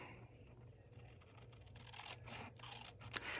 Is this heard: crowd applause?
no